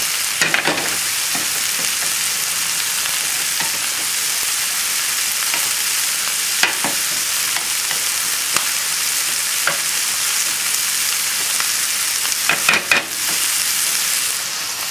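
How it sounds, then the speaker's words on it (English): Metal spoon mashing warm cannellini beans in a hot pan, a steady close sizzle running throughout with a few scattered scraping knocks of the spoon against the pan. "going to take my spoon, and these beans that are warm, just going to crush them just a little bit"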